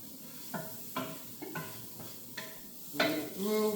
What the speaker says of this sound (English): while these are sauteing, those are boiling over there